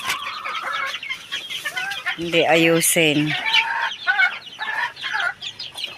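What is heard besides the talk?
chickens clucking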